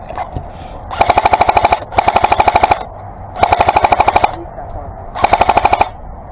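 A Matrix M4 LMG airsoft gun firing four loud, rapid bursts of suppressive fire during an airsoft game, each burst a fast, even string of mechanical shots lasting under a second, with short pauses between bursts.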